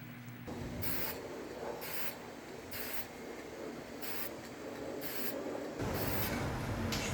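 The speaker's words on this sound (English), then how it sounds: "I'm going to spray paint it with an acrylic." An aerosol can of acrylic spray paint hisses in repeated short bursts, a steady rhythm of sprays with brief gaps, close and continuous in texture, coating a hand-crafted putter.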